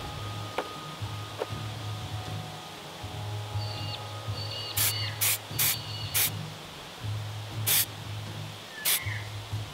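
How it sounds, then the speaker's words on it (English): A can of spray paint is used to base-coat space marine miniatures. It gives about half a dozen short hissing bursts, close and sharp, over a faint steady background hum. "A few quick sprays underneath."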